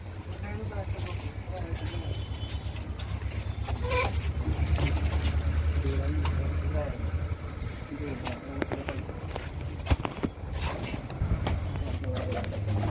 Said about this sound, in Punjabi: ਇਹ ਲੈ ਕਬੂਤਰ ਆ ਬਾਈ ਸਾਰੇ ਦੇਖ ਲਓ